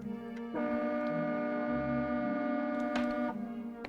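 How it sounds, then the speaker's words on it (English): A sustained, harmonic train horn blast in the video game Tales of the Black Forest sounds for about three seconds, then falls away. "Sounds like a train horn."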